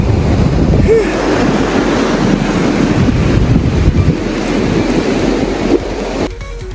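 Sea waves breaking on a beach in Vizag on a cold day, a loud continuous surf wash buffeted by heavy wind noise on the microphone, with no voices.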